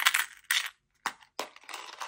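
Coins are dropped into a plastic wipes-box lid, giving several sharp, close metallic clinks and rattles in short separate bursts with brief silences between them.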